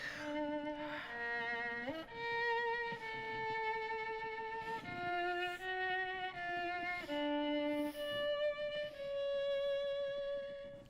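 A bowed string instrument plays a slow, singing melody with a light bow and a quick, nervous vibrato, sustained notes gliding between pitches, close and solo.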